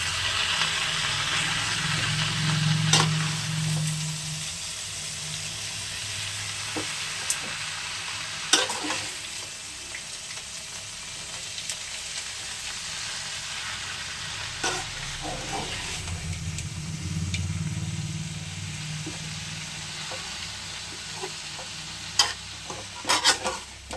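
Amaranth greens sizzle steadily in a hot pan while a utensil stirs and scrapes now and then, with a few sharp clinks.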